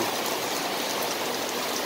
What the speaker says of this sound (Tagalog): Kahina na yung ulan.